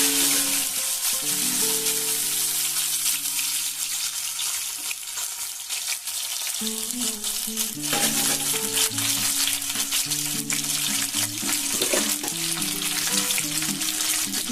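Cashews fry in oil in a home kitchen pot for pulao, a loud continuous bright sizzle with gentle stirring, while soft background music plays along.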